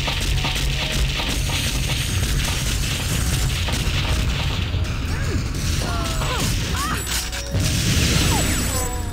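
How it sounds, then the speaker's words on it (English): Grenade blast and crashing debris in the TimeSplitters 2 video game arcade mode, dense layered booms and rumbling mechanical clatter throughout, with a brief dip then renewed impacts. "Managed to get her with a grenade."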